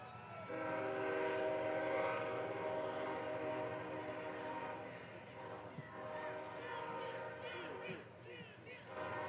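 A passing train sounds its horn in long sustained tones at an outdoor university commencement ceremony, loud and near over the rumble of the rail cars, with crowd murmur beneath.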